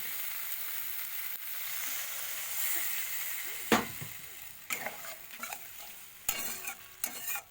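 Spice paste for a Ganges boal fish curry fries steadily in a pan, a continuous close sizzle broken by several sharp scrapes and clacks as a spoon stirs it, the strokes growing busier toward the end.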